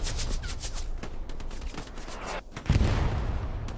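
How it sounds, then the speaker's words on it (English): Gunfire in the World War II shooter Hell Let Loose, including a shotgun, heard as a rapid stream of distant shots, then a heavier close blast near the end, with the noise of the battle going on throughout. "gets one with the shotgun"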